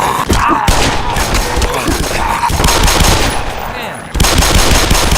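Rapid automatic gunfire and heavy shots from the Black Mesa video game, loud and dense, rattling almost continuously for several seconds with a brief drop near the end before bursting back.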